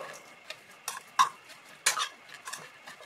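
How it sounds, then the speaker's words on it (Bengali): Onion and spices for a pizza paratha topping stirred together in a bowl with a spoon, a few sharp clinks and scrapes in short bursts, close and fairly quiet with no talk. "সবকিছুকে মিশিয়ে নেব।"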